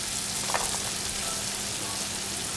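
Garlic cloves frying in a hot pan while cooking Filipino chicken noodle soup, a steady close hiss and crackle of oil running throughout without pause.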